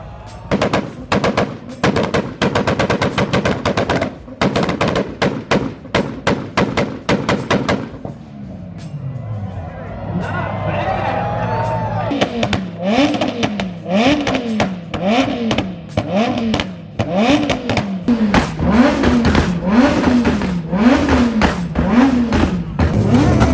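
A Lamborghini and a Toyota Supra trade two-step launch control bursts, loud rapid rhythmic pops and bangs followed by wavering revs, with excited voices talking between them.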